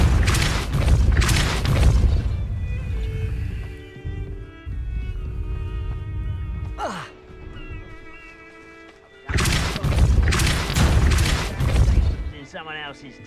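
Depulso force spell cast in the Hogwarts Legacy video game, a single swooping whoosh rising then falling in the middle of the clip, heard alone between stretches of loud speech and action sounds.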